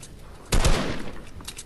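Gunfire during a video game arena match, a sudden loud burst of rapid shots after a quiet start, trailing off into scattered fainter firing.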